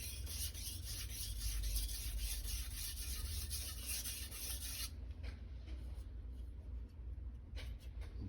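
Santoku knife being sharpened on Chosera/Naniwa whetstones, a steady close-up scraping rasp of steel on stone that continues evenly, then softens and thins out partway through.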